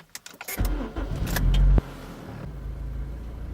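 An eighth-generation Honda Civic engine running on LPG cranks briefly and catches, then settles into a steady low idle rumble close by, with a few small clicks at the start.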